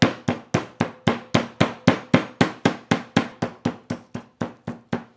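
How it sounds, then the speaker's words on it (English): Meat mallet pounds steak flat for chicken fried steak: about nineteen sharp, loud thuds in a steady quick rhythm, close by and with no talking. "So you just wanna pound it like so. And you wanna keep pounding until it flattens out."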